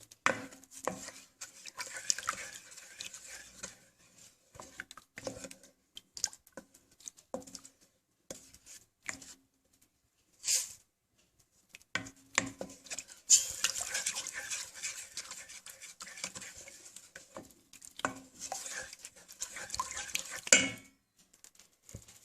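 Rice goes into a cooking pot with scattered clinks and light patter of grains against metal, interspersed with soft utensil taps and quiet pauses.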